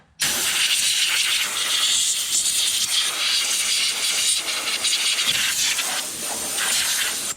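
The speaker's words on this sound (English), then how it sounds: "we're going to use an air compressor, try to blow out a little bit of this dust" Compressed air hisses loud and unbroken for about seven seconds, blowing dust out of the engine bay of a 2014 Ford F-150 with the 3.5 EcoBoost engine, with no talking.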